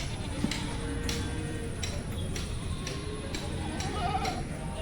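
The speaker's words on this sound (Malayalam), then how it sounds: "നമുക്ക് മലബാറി ആടുകളാണ് നമ്മൾ കാണുന്നത്" Malabari cross-breed goats on a farm bleat now and then amid steady background noise while people talk nearby.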